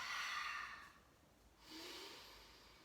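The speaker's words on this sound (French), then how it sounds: "expire par la bouche" Slow exhale through the mouth during a yoga stretch, a soft breathy rush that fades, followed by another gentle breath, close and quiet.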